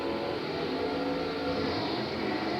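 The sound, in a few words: big block Pontiac drag car launching at drag race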